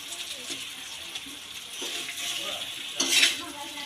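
A utensil stirs chopped raw mango and jaggery in a pan, with gentle scraping and light clinks against the metal, ending in a brighter, louder scrape.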